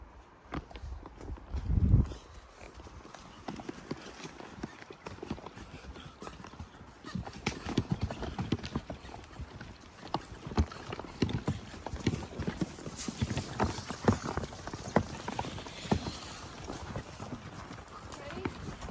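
Horses walk a mountain trail in the Idaho backcountry, hooves clip-clopping irregularly at close range under rustling and outdoor ambience, with someone talking over much of it.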